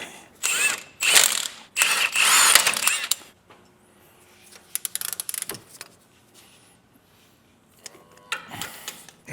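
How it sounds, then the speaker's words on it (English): Impact wrench lightly running on brake caliper bracket bolts of an INEOS Grenadier during a big brake kit install: several loud, close rattling bursts of a couple seconds each, then quieter clicks and short buzzes. "Start those by hand, and then we'll just put them on lightly with the impact."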